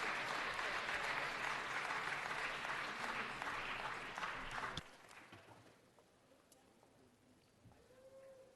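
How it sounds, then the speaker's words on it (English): An audience at a city council meeting applauds performers, loud, dense clapping for about five seconds that then stops abruptly, leaving quiet room noise with faint scattered sounds. "Let's give our performers another round of applause."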